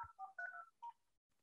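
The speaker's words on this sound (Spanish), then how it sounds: "entonces ya marco con el 0, 0, 6, 3, 0" A phone number being dialed on a telephone keypad, five short DTMF tone beeps in quick succession, clear and close with no talk over them.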